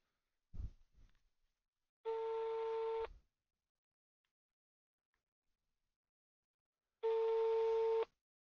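Telephone tones from a prank call: a couple of soft clicks, then two long, clean ringback tones about a second each, separated by several seconds of silence.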